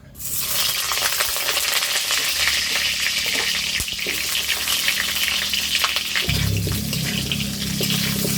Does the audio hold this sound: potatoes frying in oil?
yes